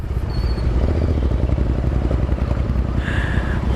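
A Bajaj Dominar 250 motorcycle rides off-road, its engine droning steadily and loudly up close, with rattling and clatter from the rough terrain throughout.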